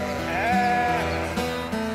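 Sheep bleating on a rural farm, a sustained wavering bleat with a second call overlapping it, close and fairly loud over a steady farmyard background.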